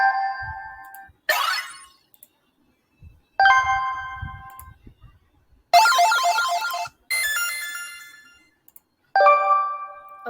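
Short bell and chime sound effects previewed one after another in a code.org game editor, several bright ringing tones with gaps of silence between them, clear and close.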